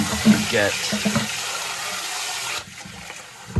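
Tap water runs steadily while rice is washed, a continuous rushing splash that drops to a quieter trickle partway through, with brief clinks and a voice speaking briefly under it.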